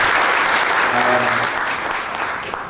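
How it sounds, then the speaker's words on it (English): Audience applause from a conference crowd fills the room, a steady dense clapping that holds loud throughout and tapers slightly toward the end. "Maybe a round of applause again."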